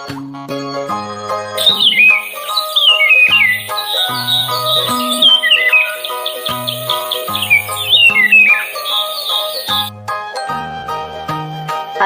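A hawk calls in high, piercing, downward-sliding cries, repeated in two clear bursts over bright, tinkling background music.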